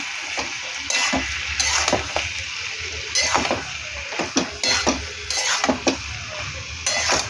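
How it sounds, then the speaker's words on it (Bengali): A chili powder and water mixture is stirred in a pan, with repeated metallic spoon scrapes and clinks over a continuous sizzle, loud and close, at an uneven rhythm; no talking. "এটাকে নাড়বো"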